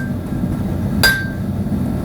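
A single sharp metallic hammer strike on hot steel rings out midway during knife forging, over a steady low forge roar in the background.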